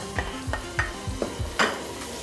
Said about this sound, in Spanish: Comenzamos a freír la carne